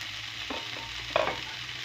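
A warm liver salad with mushrooms and beans is stirred in a pan on a switched-off stove: soft scraping and a low lingering sizzle, with a couple of sharper spoon knocks.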